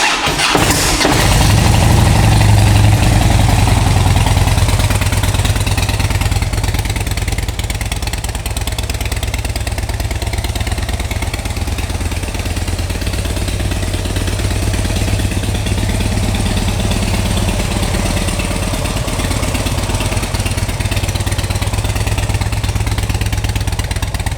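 A 2009 Harley-Davidson Dyna Super Glide motorcycle cranks and fires up, then settles into a loud, steady, lumpy idle that rumbles on close by for about twenty seconds, with no talking.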